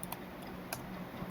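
Python code being typed on a computer keyboard: a few scattered, faint key clicks over quiet room tone, with no talking.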